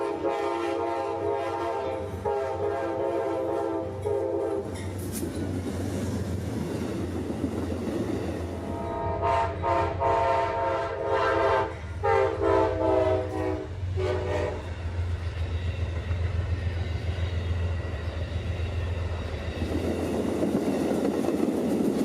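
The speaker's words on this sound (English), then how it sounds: "92 would pass us, with a nice consist of a P42 and one of Amtrak's Dash 8's" Amtrak train 92, led by a P42 locomotive with a Dash 8 trailing, roars past near Tampa, Florida, sounding long loud horn blasts early and again in the middle over a steady rumble of wheels and rail clatter.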